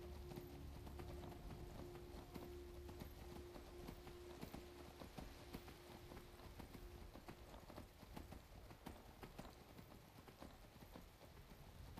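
Saddled horse's hooves clip-clop steadily in the fantasy game Skyrim, a continuous rhythmic clatter over a dense, steady game soundscape with a low sustained tone.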